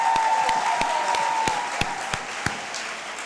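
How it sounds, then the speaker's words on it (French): A church congregation applauds during a Holy Thursday gathering, with steady crowd clapping and a faint sustained tone beneath it. "Non, Kanyabo, on va vraiment applaudir, on est gâtés."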